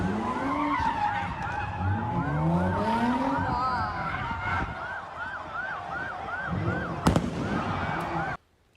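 Fireworks during chaotic street takeovers in Philadelphia, with sirens wailing in repeated rising sweeps, engines and tire noise, and a sharp bang near the end.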